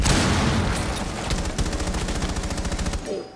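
Automatic gunfire in Rainbow Six Siege. A loud, close burst of rapid, evenly spaced shots rattles out for over a second before cutting off, over a busy backdrop of noise.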